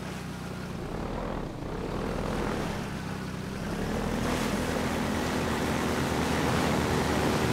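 A helicopter drops from the sky in the video game Half-Life 2, heard as a steady loud engine and rotor roar with broad noisy rushing that builds slightly over several seconds, with no talking.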